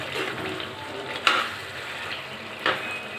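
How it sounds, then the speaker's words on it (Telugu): Chicken pieces fry in hot oil in a pan for a chicken curry, a steady soft sizzle broken by two brief scraping stirs, close and moderately quiet. "బాగా ఫ్రై అయ్యే వరకు కదుపుతూనే ఉండాలి."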